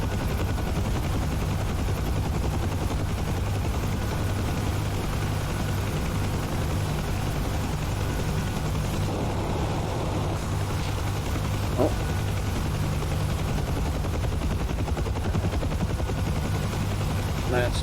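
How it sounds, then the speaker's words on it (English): Rapid bursts of video game gunfire crackle steadily through a dense, constant din of distant battle noise and engine hum, with no clear pause across the stretch. "That's me shooting at you"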